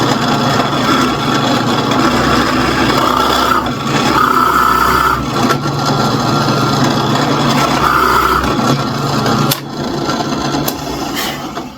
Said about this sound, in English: I'm just going to drill it in and measure it each time.